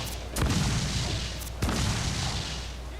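Naval cannon fire from a ship battle in Assassin's Creed 4: two heavy booms about a second apart, each trailing into a noisy rumble over a steady wash of battle ambience.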